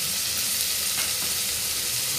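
Spices and coriander powder sauté in a hot pan for a Konkani-style prawn rice, a loud, continuous, even sizzle with no talking over it.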